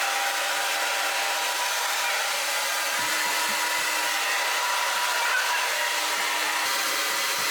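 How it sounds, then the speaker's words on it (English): A hair dryer blows steadily at close range, a constant broadband whoosh with no speech over it, used to quickly dry someone's hair at home on a snowy winter morning. "I'm gonna try and blow dry my hair really quickly while that quiche is cooling"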